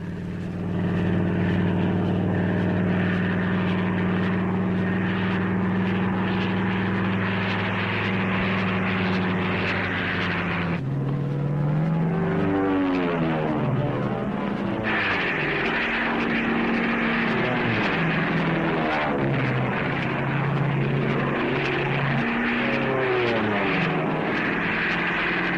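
Propeller-driven P-40 fighter planes flying low overhead in 1943, a loud sustained engine drone that shifts pitch as the aircraft pass and bank.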